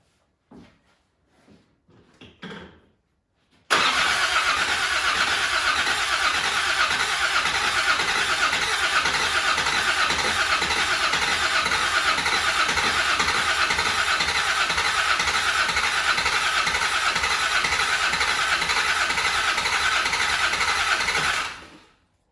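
A Land Rover Defender 90 engine starter cranks continuously for nearly twenty seconds, loud and steady, the motor almost catching but not fully starting; a few faint clicks come before it.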